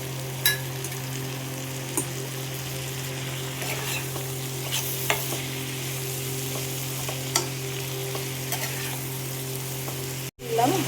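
Grated tomato sizzles in a hot pan with ground cumin and coriander while being stirred for a Bengali fish curry, a steady close frying hiss broken by several sharp scraping stirs, with brief bursts of movement near the end.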